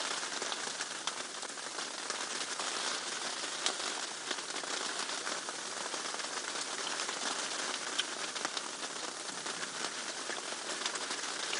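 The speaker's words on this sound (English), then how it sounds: "this the sound of the rain on the roof, and that it's very relaxing and it's soothing" Steady, dense patter of rain drumming on a safari vehicle roof during a game drive, continuous and even with occasional louder drops, no voices.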